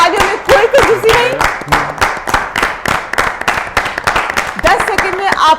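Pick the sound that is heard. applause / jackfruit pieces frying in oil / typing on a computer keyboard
applause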